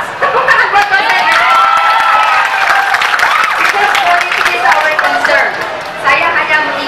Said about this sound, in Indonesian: Tepuk tangan buat dosennya.